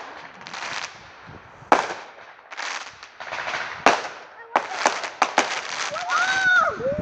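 Fireworks and firecrackers popping for Victoria Day, sharp irregular bangs and crackling bursts at close to medium range, with whistling rising tones near the end and people chattering in between.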